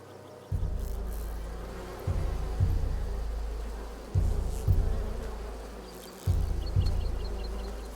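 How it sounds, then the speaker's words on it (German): A swarm of bees in A Plague Tale Requiem drones with a steady low buzz that swells in repeated surges, close and continuous with no talking. "Seht ihr es, weil da fliegen lauter Bienen umeinander."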